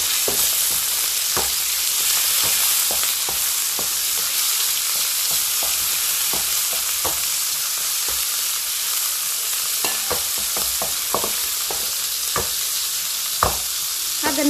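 Minced meat frying in a pan with onions, a steady loud sizzle broken by frequent scraping stirs and clicks of a utensil against the pan throughout.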